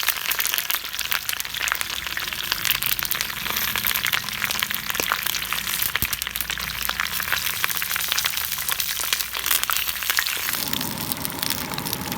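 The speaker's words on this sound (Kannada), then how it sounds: "ಮೀನನ್ನು ಇದರ ಮೇಲೆ ಇಟ್ಟು ಫ್ರೈ ಮಾಡುವ." Cola fish frying in a pan over a village-style fire, giving a loud, dense, steady crackle and sizzle that runs unbroken from start to finish, with no voices.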